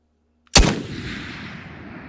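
A single gunshot from a gun in the VR shooter Ghost of Tabor cracks out sharply after a moment of silence, then rings off in a long, fading tail.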